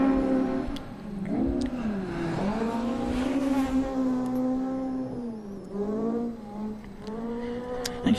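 An AP4 Mirage rally car revs and accelerates on a gravel special stage in South Canterbury, its engine rising and falling in repeated surges through gear changes, loud and close with no talking.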